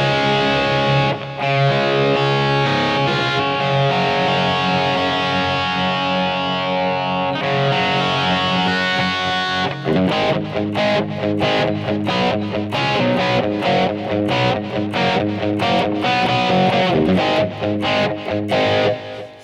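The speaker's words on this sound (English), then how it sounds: "here is the combo, or the stack crunch amp with no overdrive distortion" Electric guitar played through a stack crunch amp with no overdrive pedal, a boss eBand JS-10 setup, ringing out loud and continuous with sustained chords giving way to choppier, rhythmic strumming.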